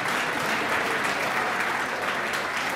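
Audience applause fills the room after a call for a round of applause at an event, steady dense clapping from many people, loud and continuous without talk.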